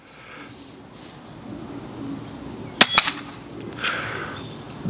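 A single airgun shot at a target during scope tuning with a DNT Thermnight thermal unit: a quiet outdoor lull, then a sharp crack and a quick second snap just after, followed by faint background noise.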